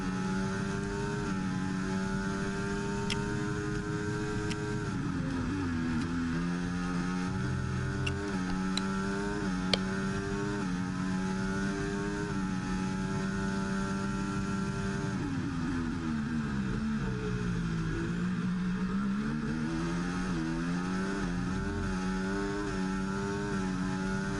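F1 race cars in the F1 24 video game at the Canadian Grand Prix, engines whining loudly and continuously as the pitch rises and falls through gear changes and corners, a close rival car audible alongside.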